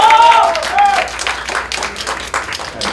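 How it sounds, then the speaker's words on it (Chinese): An audience at a fan signing event for an album release applauds, a moderate wash of clapping that starts under a loud announcer's voice and continues as scattered claps with some crowd murmur. "希望各位给他更多的加油跟支持的掌声"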